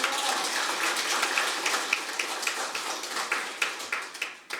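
Audience applause at a mental health policy hearing, with scattered clapping that is fairly quiet and thins out into separate claps toward the end.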